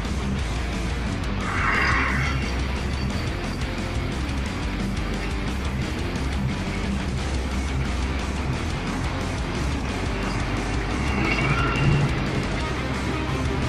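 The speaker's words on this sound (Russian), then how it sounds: "Едем на КамАЗе." A 1986 KamAZ-4310 timber truck with a loader crane driving, heard from inside as a loud, steady diesel drone and road rumble with no speech and little variation.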